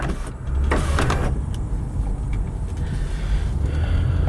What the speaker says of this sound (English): You also have your tilt back power moonroof. Does also have a pop-up function as well.